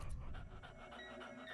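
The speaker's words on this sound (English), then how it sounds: "Oh, he's panting." A little dog in a video game pants in quick, soft rhythmic breaths, close and quiet, with a faint tonal game background underneath.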